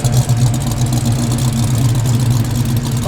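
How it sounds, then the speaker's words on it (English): A 1969 Chevrolet Camaro Z28 with its factory engine idles close by, a steady, deep, lumpy rumble that holds even and loud throughout, with no voices over it. "Mate, listen to the idle."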